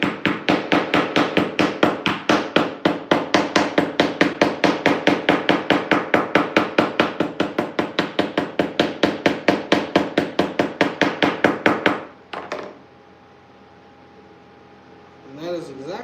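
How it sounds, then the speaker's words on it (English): Fast, steady hammer taps on metal flattening a segmented ring, dozens of close, sharp blows in a continuous rhythm, stopping abruptly before a brief quiet voice. "Then I come in with a hammer, flatten it out."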